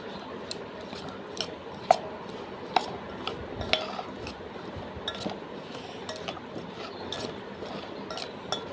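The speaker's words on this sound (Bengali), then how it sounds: "এবার এটাকে আমি মিক্স করে নেব।" Spiced karamcha pickle mixture being stirred in a bowl, steady scraping with frequent sharp clinks of spoon against the container, close and clear.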